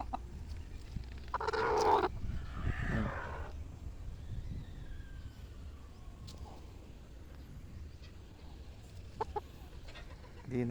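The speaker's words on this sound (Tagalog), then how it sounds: "Itong isang anak ng bagsik brood hen namin, kada nasa range area si Jayfern ay laging nasa tabi niya" A brood hen on a gamefowl breeding farm gives a short run of loud clucks near the start, then only quieter scattered calls over soft outdoor ambience.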